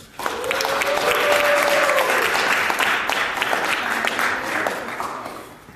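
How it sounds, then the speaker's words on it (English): An audience at a town hall forum at Community College of Philadelphia applauds steadily, a dense wash of clapping that swells quickly, holds for several seconds, then tapers off near the end. "please give a round of applause for Miss Tamara Anderson."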